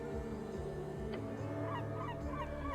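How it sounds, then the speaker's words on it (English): A bird in the video game Esoteric Ebb lets out harsh, honking, goose-like calls over a sustained tonal game background, the cries loud and repeated several times in short succession. "The bird screams loud."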